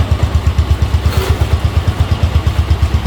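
A motorcycle engine idles steadily just after an oil change at a home bike service, giving a close, even low thumping pulse with light mechanical clatter and no voices.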